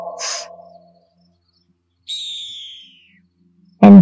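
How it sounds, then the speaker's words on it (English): A hawk at a full-moon beach gives a few separate calls: a short harsh note, a thin descending whistle, then an abrupt loud cry, each alone with silence between. "You can hear the hawk in the distance as it squawks"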